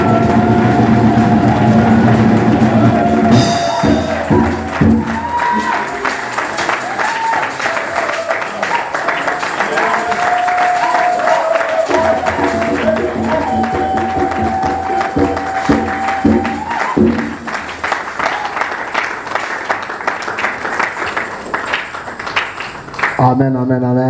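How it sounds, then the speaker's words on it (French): A church congregation at a prophetic worship service cheers and applauds loudly and continuously, with shouting and sustained voiced tones riding over the clapping, before a brief sharp burst near the end. "Avec vos acclamations, je vais appeler le prophète Emmanuel."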